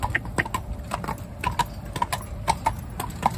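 Purebred Irish Draught sport horse mare driven single through town, hooves clip-clopping in a steady, close walking rhythm on hard pavement, with little else around.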